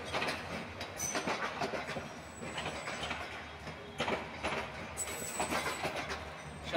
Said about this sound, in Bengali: গফরগাঁও রেল স্টেশন থেকে হাওড় এক্সপ্রেস চলে যাচ্ছে, ছেড়ে যাচ্ছে